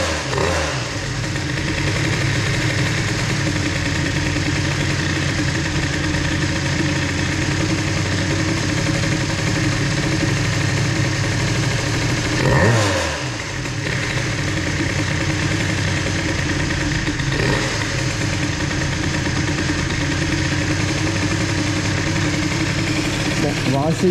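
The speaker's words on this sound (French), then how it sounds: "maintenant que ça a bien tourné au ralenti, coup de gaz" The carbureted engine of a Bidalot RF 50 WR two-stroke motorcycle idles loudly and steadily close by, with one brief throttle blip midway; a voice can be heard over the engine.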